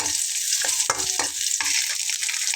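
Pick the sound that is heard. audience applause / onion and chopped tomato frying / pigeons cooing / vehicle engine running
onion and chopped tomato frying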